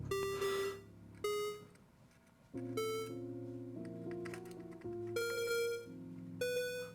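A mechanical keyboard with VIA firmware plays a series of electronic beeps and bleeps on startup, stepped tones and short chimes in a melodic pattern, clear and moderately quiet, with no talk.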